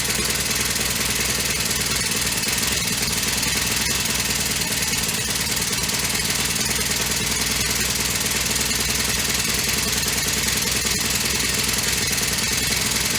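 Honda mini tiller engine running steadily after a valve clearance adjustment, a loud, even, continuous mechanical rattle and hum close by with no voices.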